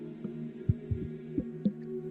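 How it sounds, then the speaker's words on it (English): A faint, slow heartbeat effect thumps softly and somewhat irregularly over a steady low drone, as if underscoring a quiet, tense moment in a fantasy tabletop roleplaying scene. "you hear like the faint sounds of a very slow like heartbeat"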